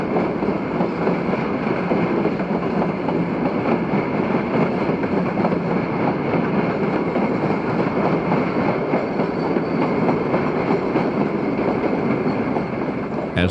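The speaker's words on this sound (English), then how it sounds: "An eastbound freight is backing into Burr Oak Yard." An eastbound freight train backs slowly into a rail yard on the Rock Island line at Blue Island in the 1960s, with a steady, loud rolling rumble and rhythmic wheel clatter that continues throughout.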